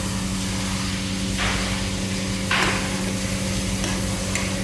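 Sprouts curry being stirred in a pan, with a continuous background hum and a few short, sharp scraping bursts of the spoon against the pan.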